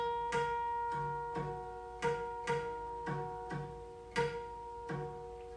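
Guqin harmonics on the fifth string at the fourth hui, about eleven bell-like plucks in an uneven rhythm, each ringing briefly over the steady sustained tones of earlier notes, close and clear with no talking.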